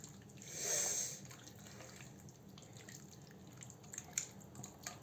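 Water from a glass is poured over potatoes in a baking tray, a short soft splash near the start followed by faint trickles and drips in a quiet kitchen.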